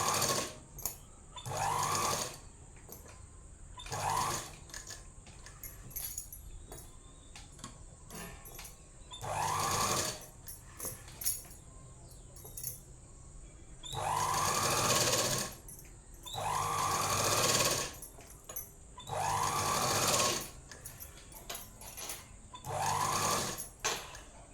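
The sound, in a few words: sewing machine stitching a chudidhar top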